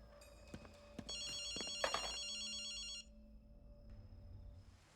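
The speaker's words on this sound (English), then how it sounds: "There is a phone, I think, just down here." A telephone rings in Ghostwire: Tokyo, a bright electronic trill sounding once for about two seconds after a few soft clicks and knocks, then cutting off into a quiet hum.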